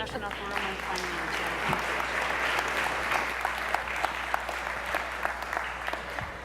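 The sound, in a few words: applause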